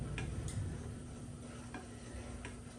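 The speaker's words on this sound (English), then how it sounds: "Okay, so we keep stirring it. Let it bubble for a couple of minutes" Gluten-free caramel cake sauce bubbling in a pot, a dense close hiss and gentle popping with a few light ticks of a spoon stirring through it.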